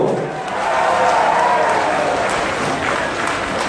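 A crowd at a political rally in Sabah applauds and cheers to welcome a leader: dense, steady clapping mixed with crowd voices, loud and sustained throughout.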